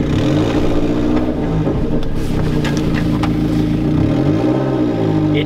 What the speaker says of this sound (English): I know the exhaust there's still that leak, so it might be a little loud.